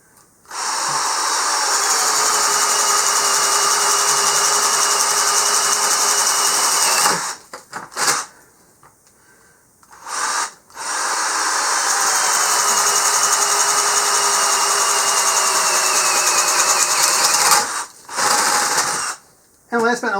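A Hart drill bores a 1 1/8 inch hole through wood, with two long loud whining runs of several seconds each separated by a brief stop, sounding close and strained.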